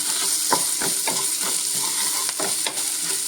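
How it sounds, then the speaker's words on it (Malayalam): Tamarind and chillies sauté in a pan for Kerala mulaku chammanthi chutney, a steady close sizzle broken by repeated scraping stirs of a spoon against the pan. "ഇതിൻ്റെ കുരുവെല്ലാം കളഞ്ഞിട്ട് നമുക്കിതിലേക്ക് ഇടാം എന്നിട്ട് അതുകൊണ്ടൊന്ന് വഴച്ചെടുക്കണം നല്ലോണം"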